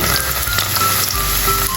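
Garlic sizzling in hot oil, for homemade adobong mani (Filipino fried peanuts): a dense, close, loud crackling hiss that continues without a break.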